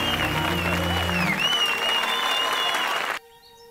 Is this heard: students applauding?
yes